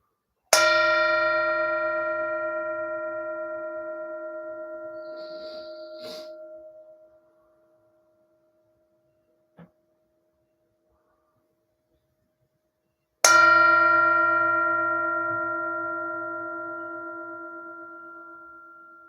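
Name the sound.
meditation bell ringing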